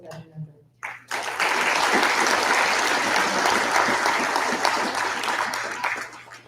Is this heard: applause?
yes